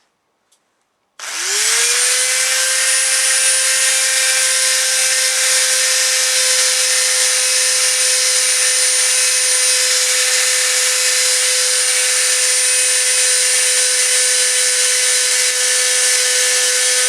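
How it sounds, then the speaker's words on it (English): Dremel rotary tool spinning up with a sharp start and holding a steady high-pitched whine while drilling a hole for an HO scale model, loud, close and continuous. "with the other Dremel,"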